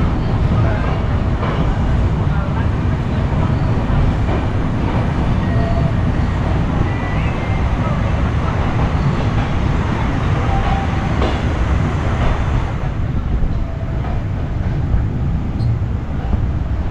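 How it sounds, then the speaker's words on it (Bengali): The Kamrup Express, just pulled out of Tinsukia junction, runs with a loud, steady, unbroken rumble and rattle of wheels and carriages heard from inside the train, holding an even level throughout. "আমাদের ট্রেন ছেড়ে দিল তিনসুকিয়া রেলওয়ে জংশন স্টেশন থেকে"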